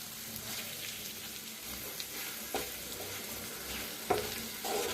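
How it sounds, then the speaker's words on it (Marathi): Egg masala sizzles in a pan as a spatula stirs it, a constant frying hiss broken by scraping strokes and a few sharper clinks against the pan. "सगळं आत पातूर बी जातोय, मस्त असं भाजले जाते अंडा।"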